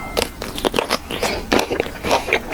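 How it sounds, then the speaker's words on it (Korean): Close-miked bites into a kielbasa sausage in an eating session, several crisp, snappy crunches and chewing sounds in quick succession. "모구모구 워터멜론 킬바사 소세지 그냥 한입"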